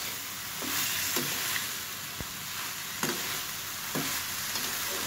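Potato and bitter gourd curry fries in a pan with plenty of oil, a faint, even hiss of sizzling punctuated by a few soft taps and scrapes of stirring.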